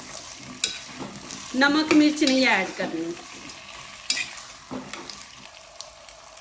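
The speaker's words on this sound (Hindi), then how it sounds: "अब यहाँ पे डाल देंगे आलू। इनको थोड़ा फ्राई करेंगे 5 मिनट ना।" Potatoes fry and get stirred in a pot, a soft steady sizzle with scraping spoon strokes and bursts of clatter, while someone talks briefly over the cooking.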